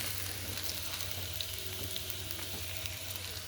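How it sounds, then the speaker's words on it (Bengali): Prawns and tomatoes frying in a pan after potato, pumpkin and pointed gourd, a soft continuous sizzle with faint crackle, quiet and steady. "এখানে চিংড়ি মাছ আর টমেটো দিয়ে দিলাম।"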